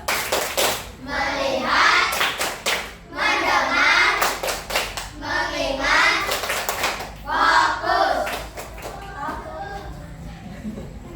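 Children perform rhythmic classroom clapping routines, bursts of sharp hand claps in repeated patterns alternating with chanted group voices, loud and close throughout.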